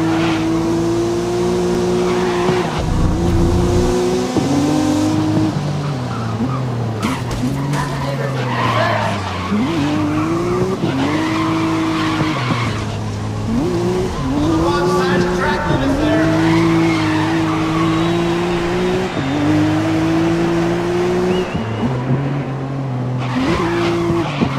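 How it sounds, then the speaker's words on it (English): Race cars in Grid 2019 roar continuously with rising and falling engine pitch through gear changes, tires squealing through corners, and a voice talks over the racing. "This Grid World Series event is underway and racing towards turn one"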